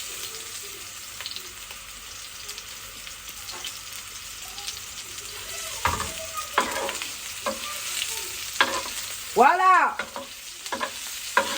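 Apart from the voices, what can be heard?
kofta frying and being stirred in a pan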